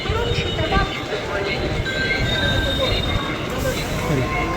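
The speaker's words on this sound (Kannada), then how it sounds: "ಸುರ್ಪುರ್ ಮುಂಬೈ ಈಗ ಬಂದಿರೋ ಗಾಡಿ ಸುರ್ಪುರ್ ಮುಂಬೈ ಗಾಡಿ ಇದು" A Surpur–Mumbai bus pulls into the Indi bus stand at night with a continuous loud engine rumble and a thin brake squeal, set against the busy hubbub of a crowded station.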